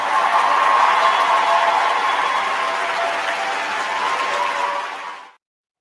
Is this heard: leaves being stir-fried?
no